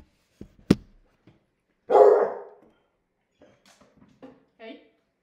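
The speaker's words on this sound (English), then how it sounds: "Oh, that's a dog." A dog on a walk barks once sharply, then gives a louder, rough bark followed by a few short, softer yips and whines nearby, with no talk over it.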